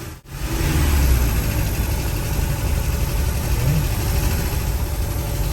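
A car engine on a first test drive, running steadily and fairly loud at a mid pitch with small shifts in tone as the driver works the clutch and tries to get through the gears.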